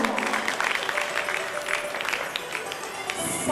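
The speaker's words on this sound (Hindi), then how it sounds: "हमारे संगीत मंडली में जो भी भैया हैं उन सब के लिए भी जोरदार तालियां।" Applause from the audience at a Shrimad Bhagavat Katha gathering, a dense steady patter of many hands clapping, with some voices mixed in underneath.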